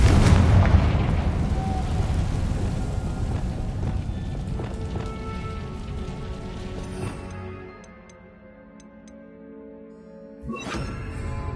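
A Bombarda spell blast in Hogwarts Legacy opens with a loud, dense rumbling explosion that slowly fades. A quieter stretch follows, and a second sharp burst lands near the end.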